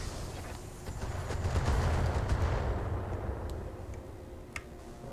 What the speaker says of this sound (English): the avatar keeps shooting back there